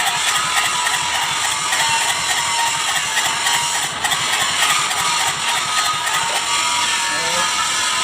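A Kubota Z751 engine that is hard to start cranks and runs with a steady, busy mechanical clatter. The ticking, ratchet-like rhythm holds close and loud throughout the clip.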